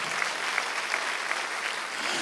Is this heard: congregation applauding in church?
yes